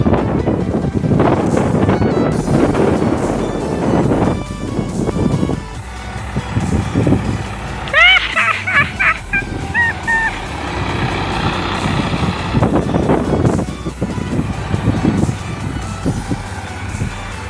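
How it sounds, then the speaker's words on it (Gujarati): A tractor engine rumbles nearby as it is driven across a farm, with strong wind buffeting the microphone and a few high beeps or whines in the middle stretch. "જોવો મારો મિત્ર અત્યારે ટ્રેક્ટર આખે છે"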